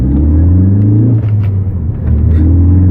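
A car fitted with new EBC Yellow Stuff brake pads speeds back up after a brake stop during pad bedding-in. The engine gives a loud, close, low droning rumble that holds steady and strains slightly, with no talking.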